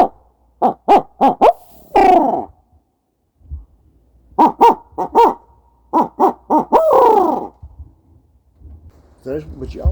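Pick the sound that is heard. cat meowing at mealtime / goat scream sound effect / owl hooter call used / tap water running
owl hooter call used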